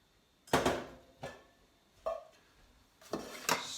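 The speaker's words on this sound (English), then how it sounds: "I'm just going to cut it down. Just cut the ends off." A knife chops through a cauliflower on a board, five or six sharp, separate knocks spaced irregularly, close and clear with no talking.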